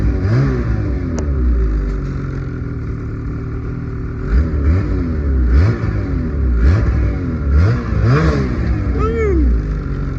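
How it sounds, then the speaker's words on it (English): A Ski-Doo 800 Renegade XRS two-stroke snowmobile engine idles loudly and close, then rises and falls in repeated quick throttle blips, each one a brief climbing rev over the steady engine drone. "Give her a few blips here of the throttle."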